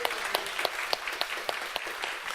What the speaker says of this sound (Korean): 감사의 박수 한번 올려드리시죠.